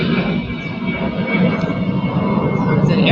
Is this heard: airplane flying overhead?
yes